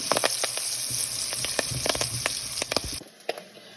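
Onions sautéing in ghee for ghee rice sizzle steadily in a hot pan, close and clear, broken by sharp stirring clicks and scrapes before the frying drops away abruptly near the end.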